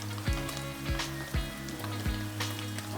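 Previously fried chicken pieces returned to a hot pan sizzle steadily, with a few sharp stirring clatters and scrapes punctuating the close, continuous crackle; no one talks.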